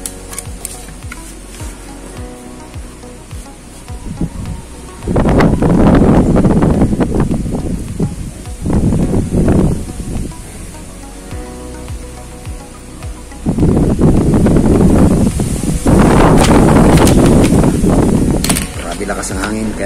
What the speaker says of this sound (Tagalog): Lakas ng hangin kaya tumitipos ang aking papel.